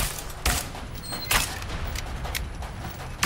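Enemy gunfire in the video game A Way Out: a sustained, noisy volley of shots with sharper bursts near the start, middle and end, continuous and fairly loud, with no talking.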